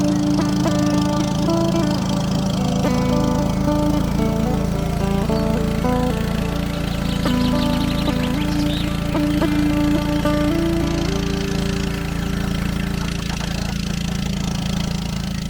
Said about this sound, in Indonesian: suara mesin perahu dan desiran air